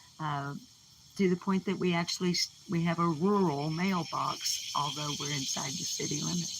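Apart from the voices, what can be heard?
cicadas buzzing outdoors in Arkansas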